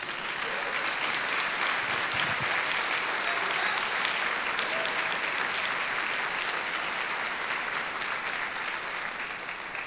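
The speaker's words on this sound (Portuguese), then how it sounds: "Vamos dar um aplauso a Jesus por isso?" A church congregation bursts into sustained, loud applause in a large packed venue, a dense continuous roar of many hands holding steady throughout.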